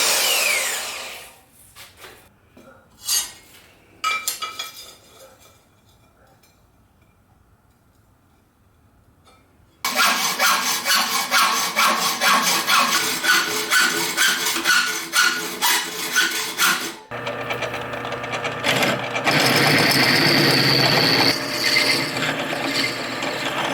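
A steel piece for a bench vice is cut, first with a few short scraping strokes and quiet gaps, then a loud, steady grinding cut that runs continuously and grows harsher toward the end, close up with no voices.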